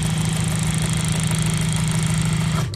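Leather cutting machine whose needle is sharpened into a knife, cutting leather for handmade cowboy boots; a loud, steady motor drone runs without pause and cuts off right at the end.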